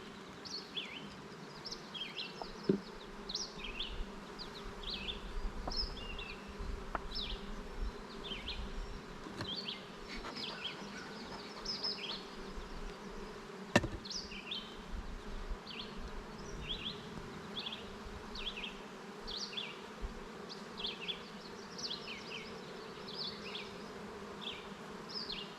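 Honey bees buzzing steadily close by while colonies are split during a hive inspection, with individual bees droning past and a few soft knocks from handling frames.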